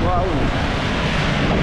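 Rushing water at Aurora Falls, a waterfall in Bulawan, pours as a steady, loud, broadband roar that fills the scene with no pause, while a brief faint voice sounds at the start.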